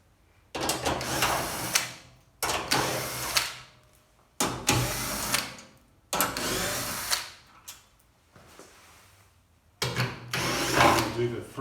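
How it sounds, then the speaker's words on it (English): An 8mm socket on a power driver backs screws out of the top panel of a Simpson washing machine. Five separate bursts of whirring, each about a second or two long, are split by short pauses, close and fairly loud. "Using an 8mm socket, undo the two screws here at the top."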